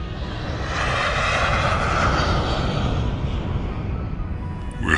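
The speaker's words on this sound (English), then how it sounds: "He simply got on a plane and disappeared." A passenger airplane flies overhead, its jet engine making a broad, steady roar that stays loud and even throughout with no voices over it.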